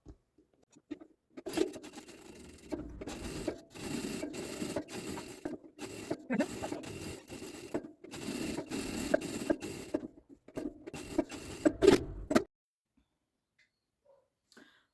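Sewing machine stitching fabric for a Bible cover, bursts of rapid mechanical rattling separated by short pauses, close and moderately loud, stopping near the end into quiet.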